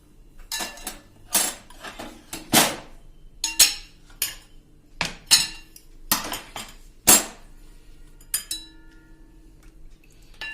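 Metal utensils clink and scrape against a pot while used cooking oil is strained off the stove, a series of sharp close clatters and taps in irregular bursts with quiet gaps between.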